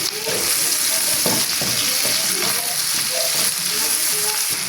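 Colored and green bell peppers sizzle loudly in a pan, with a steady frying hiss and repeated scraping stirs of a utensil close by, no voices heard.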